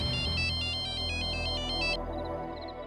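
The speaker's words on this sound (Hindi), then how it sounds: "वो कई बार फोन आ चुका है" A phone ringtone plays a loud, repeating electronic melody of bright beeping tones over a low background hum, then cuts off.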